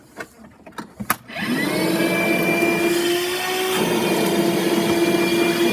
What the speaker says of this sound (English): This is a nice cordless DeWalt vacuum.